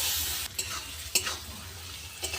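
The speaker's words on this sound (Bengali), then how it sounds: "আমি আবারও একটু ভালো করে কষাবো" A spatula stirs chopped tomato into ginger-garlic masala in a sizzling pan, with a steady frying hiss broken by three clear scraping strokes.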